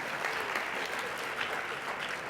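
An audience at a youth service awards program gives steady, dense applause throughout, many hands clapping together at an even, moderate level.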